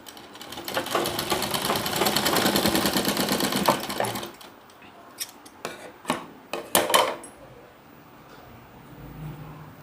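A sewing machine stitches joined fabric strips for a decorative sleeve in one sustained, close whirring run, then stops; scattered clicks, rustles and handling knocks of the fabric follow in the quieter second half.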